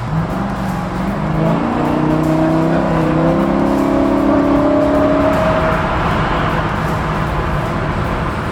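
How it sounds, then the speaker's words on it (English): A Chevrolet Nova cruising smoothly at 70 mph on a highway, engine hum and rising tonal drone blending with constant road and wind noise, no voices. "we're going 70, and the car's nice and smooth"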